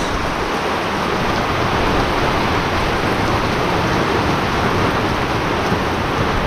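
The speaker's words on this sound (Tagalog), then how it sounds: "So pumalit naman ay malakas na ulan" Heavy rain during a typhoon, a dense, loud, unbroken roar of downpour close by, steady from start to finish with no voices.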